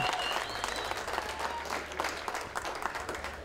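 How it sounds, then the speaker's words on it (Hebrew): Wedding guests in Israel clap steadily for the groom during the ceremony, a dense, continuous round of applause from a close crowd with no talk over it. "מחיאות כפיים לחתן"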